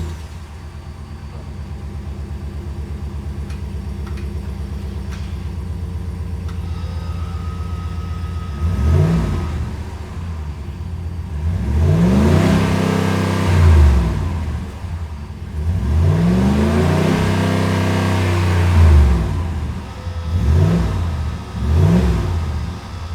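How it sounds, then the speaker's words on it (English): A 2019-2024 Ram 1500 pickup with a Flowmaster American Thunder axle-back exhaust idles low, then gets several loud revving bursts in a row, each rising and falling, with a deep rumble between them. "So now we'll give it a little gas and see what she sounds like."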